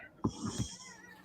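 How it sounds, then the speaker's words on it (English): A cat meows loudly in three quick, strained cries close by, followed by a fading tail of sound. "your cat is losing his mind"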